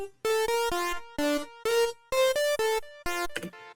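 A bright, buzzy square-wave synth lead with pulse-width modulation plays a staccato Commodore 64–style chiptune melody in short repeated notes, loud and alone.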